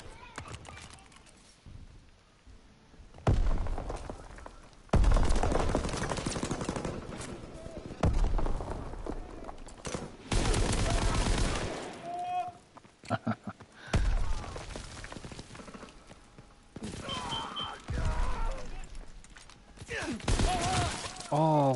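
Call of Duty WW2 gunfire rings out in rapid bursts and fusillades, loud and close, spread across the stretch with brief pauses between volleys and players chatting in between.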